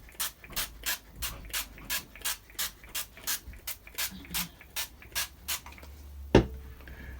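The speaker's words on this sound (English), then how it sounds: "So I'll just spray some oil spray over them" Oil spray misted over raw chicken wings in a kitchen, heard as a rhythmic series of about seventeen short, hissing spritzes at a steady pace, then a single sharp knock near the end.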